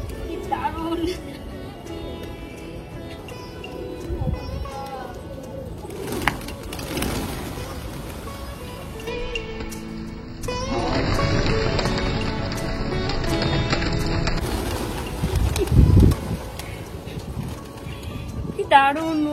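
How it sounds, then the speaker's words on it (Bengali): A crowd of pigeons in Kolkata coos and flutters in a steady layered murmur with occasional wing bursts, while people talk throughout. "দেখো আমি কবুতরের রাজ্যে চলে আসলাম"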